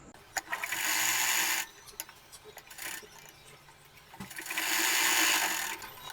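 A sewing machine stitches a kurti seam in two long running bursts with a quieter pause between them. Its fast mechanical ticking is close and steady, with no talk.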